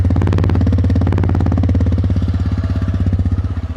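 A TVS Raider 125cc motorcycle idles close by with a loud, steady, even engine throb that holds throughout, with no talking over it.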